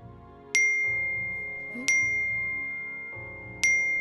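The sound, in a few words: phone notification alert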